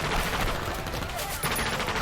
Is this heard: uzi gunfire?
yes